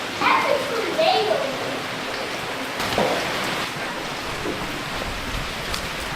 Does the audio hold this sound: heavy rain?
yes